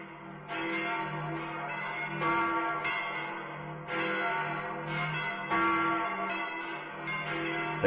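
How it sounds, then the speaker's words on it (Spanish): Church bells toll slowly in a resonant, ringing sequence, each stroke swelling and decaying with a faint echo, heard alone without voices. "mientras me llegaba el sonido de lejanas campanas que tañían de cuando en cuando"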